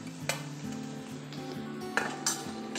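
Boiled potato being stirred and fried in a pan for a Diwali thali: a quiet, continuous sizzle with a metal spoon scraping and clinking against the pan several times.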